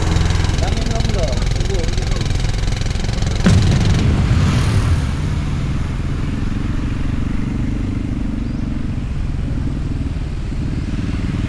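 A scooter engine runs steadily up close, a constant buzzing drone that lasts throughout, with a short louder burst partway through, in Phatthalung, Thailand.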